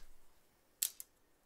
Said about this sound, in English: I'm gonna just snip these little threads away